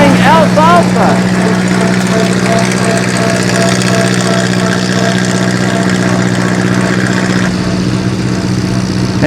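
An antique tractor engine runs steadily at a low, constant drone while plowing an alfalfa field on a farm in Van Buren, Maine, close and continuous for the whole stretch, with a voice speaking over it near the start.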